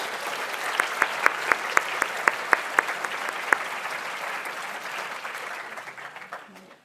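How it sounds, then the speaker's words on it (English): A conference audience applauds four panellists walking onto the stage at a behavioural insights plenary, a broad wash of clapping with a few sharp, louder claps standing out at a steady pace before it slowly fades. "welcome our four panellists with a warm round of applause"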